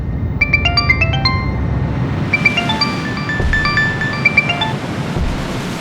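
A tinkling electronic ringtone melody plays, pauses, then repeats, over a steady windy background noise.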